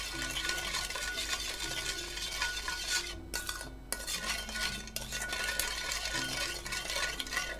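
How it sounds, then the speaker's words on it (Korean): Spoon stirring bulgogi marinade with sugar and sesame oil in a bowl, continuous scraping and light clinking for several seconds with a brief pause, close and quiet. "설탕이 녹아야 되니까 좀 이렇게 섞어줘요"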